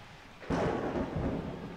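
A thunderclap from the weather in the video game Blood Bowl 2 bursts in suddenly and rumbles on over a steady wash of falling rain.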